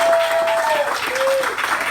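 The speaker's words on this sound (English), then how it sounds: "How about a round of applause for Home State Bank?" Audience applause at Home State Bank's 100th anniversary celebration, a short burst of clapping from the crowd with a voice and faint tones sounding over it.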